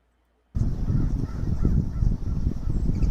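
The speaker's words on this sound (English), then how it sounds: "So many hungry wild turkeys." Hungry wild turkeys in the countryside call continuously and loudly at close range, a dense overlapping chorus of honking gobbles that begins abruptly after a brief silence and carries on without pause.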